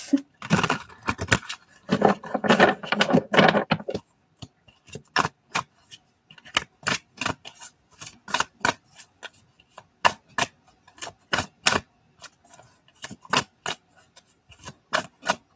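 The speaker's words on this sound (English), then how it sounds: "These cards are so big that it's so hard to shuffle them." Large tarot cards are shuffled with soft riffling and rubbing at first, then a long run of sharp, evenly spaced clicks and flicks as they are cut together, close by.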